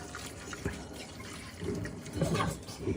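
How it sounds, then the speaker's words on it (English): Hot water from boiled potatoes is poured into a strainer in a kitchen, a steady liquid splash and trickle with a louder gush toward the end, heard alone at moderate level. "You're gonna pour the water slowly forwards, not towards yourself, into the strainer, because the water will go through it"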